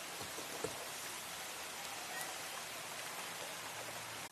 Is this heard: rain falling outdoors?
yes